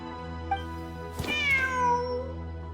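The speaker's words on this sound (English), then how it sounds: "Wait, there it is! The cat!" A cat meows in the Genshin Impact video game, heard as one short chirp and then a longer, rising, drawn-out mew over a steady low hum of game music.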